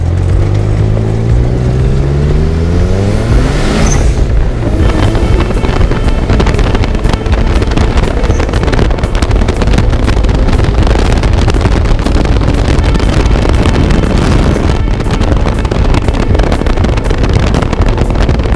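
A turbocharged Chinese dune buggy on a speed run, its engine roaring loud and steady throughout with heavy wind buffeting the microphone and a rising pitch sweep early on.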